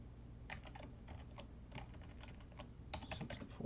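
A short burst of keystrokes on a computer keyboard enters a numeric value, with quick irregular clicks in small clusters, close but quiet over a low steady hum.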